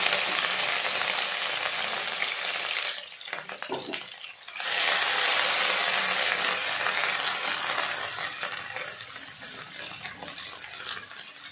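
Green chillies fry loudly in hot oil, a dense continuous sizzle that drops away briefly partway through, then returns and slowly softens, with occasional stirring clinks and no talking.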